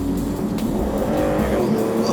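Aston Martin V12 Vanquish driving fast, probably on a motorway: a steady, loud engine drone with continuous road and tire roar, running without a break and with no speech.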